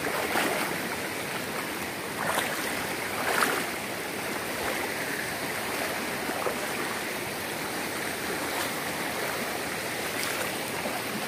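Steady broadband rush of a large stream's water flowing around someone wading through it, a continuous close wash with occasional brighter splashes, no voices.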